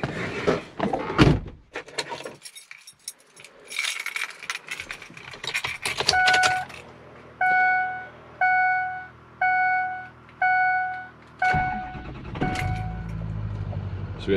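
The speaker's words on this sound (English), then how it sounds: "We'll jump in the truck and fire it up." A 2006 Ford F-350 6.0L diesel crew cab truck: door and key clunks, then a regular series of chime beeps and the diesel engine cranking and starting, with brief talk at the start.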